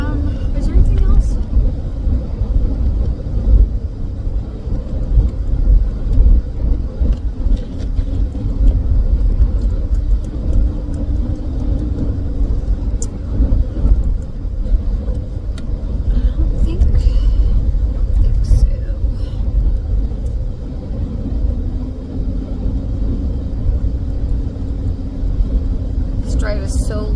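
A car creeps slowly along a snowy, slick road, its low engine rumble and tire noise steady inside the cabin while a person talks over it throughout.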